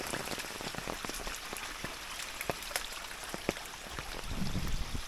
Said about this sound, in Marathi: तर पाऊस बघा काय आला आधी मोठा